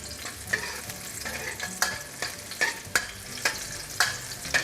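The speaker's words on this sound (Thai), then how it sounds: "เจียวหอมแดงนะครับให้มันมีกลิ่นหอมนิดนึงนะครับ" Sliced shallots fry in a wok with a constant oily sizzle, punctuated by regular sharp scrapes of a spatula stirring roughly every half second.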